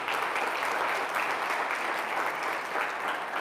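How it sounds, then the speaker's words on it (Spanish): Church congregation applauding loudly and steadily during a Spanish-language charismatic prayer workshop, a dense continuous clapping that fills the space for a few seconds without letting up. "si puedes darle un fuerte aplauso a Jesucristo"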